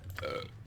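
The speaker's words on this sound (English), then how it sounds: "Nice burp." A single short, close burp from the video game Baldur's Gate 2, low and gravelly, lasting under a second.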